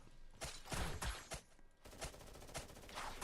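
Gunfire in the Anime Dungeon Fighters PVP mode, a loud, dense fusillade of rapid shots in repeated bursts that continues across the whole stretch with no talk.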